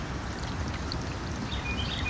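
A small solar-powered garden fountain kit with a glass panel and a multi-nozzle head sprays water outdoors: a soft, continuous splashing trickle, fairly quiet and close, with no speech.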